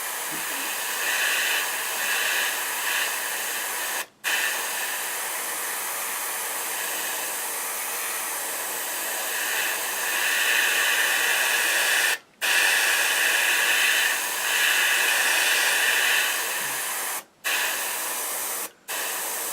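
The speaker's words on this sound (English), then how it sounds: "that's spraying" A continuous airbrush hiss sprays paint steadily on a Spitfire scale model, cutting out briefly a few times before resuming, with no talking.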